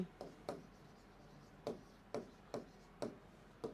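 Chalk or marker strokes on a board during a physics lecture, about eight short scratchy taps in an irregular rhythm, quiet and close with no talk.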